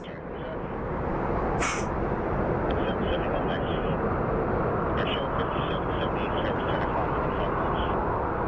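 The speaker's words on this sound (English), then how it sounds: "for the first time we have an American Airlines flight moving faster than a Southwest flight" An American Airlines passenger jet taxiing quickly at Phoenix Sky Harbor gives off a loud, steady broadband engine roar that swells in the first second and then holds, with a brief high whine partway through.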